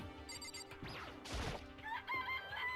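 A chicken crows in the Danganronpa: Trigger Happy Havoc video game, a short rising call over steady game music and background effects, with no talking.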